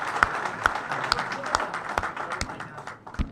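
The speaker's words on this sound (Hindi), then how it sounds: "जोरदार तालियों से आप उनका अभिनंदन करें" Party workers at a BJP political event in Jaipur clap in a brisk, fairly loud burst of applause, with sharp individual claps standing out from the crowd noise and no voices heard.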